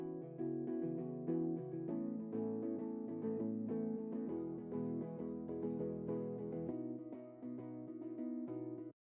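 A plucked guitar line from a Kontakt electric guitar library, its dry signal processed to sound acoustic, plays a clear melodic passage of picked notes and chords at steady tempo, alone and ending abruptly.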